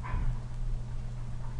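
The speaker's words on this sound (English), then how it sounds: "We got some dogs fighting in the background, so sorry about that." Dogs squabbling and barking in the background, a low, muffled commotion with a brief louder yelp near the start, faint and steady under a room hum.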